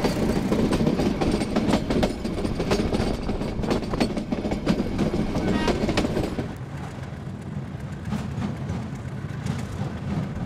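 Double-header locomotives hauling a train between Patalpani and Kalakund rumble loudly and steadily on the rails, with clattering wheel beats and clanks; the noise eases and thins slightly partway through.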